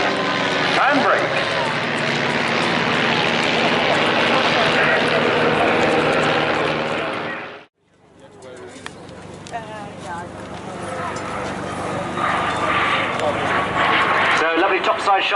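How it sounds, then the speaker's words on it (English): Team Raven display aircraft at the Bournemouth Air Festival throttling back: a loud, steady engine roar that cuts off abruptly midway, then returns as a quieter, fluttering drone with a commentator talking over it. "Engines back, throttling back."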